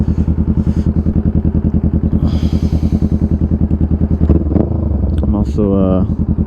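Honda Rebel 500 fitted with a DBK exhaust idling close by, a loud, even, rapid thumping pulse, then a few throttle blips near the end as a voice talks over it.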